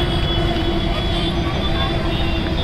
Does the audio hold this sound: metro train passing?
yes